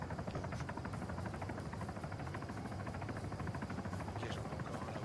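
Helicopter passing overhead during an airsoft event, a steady loud rotor drone with rapid blade chop filling the whole clip, no speech over it.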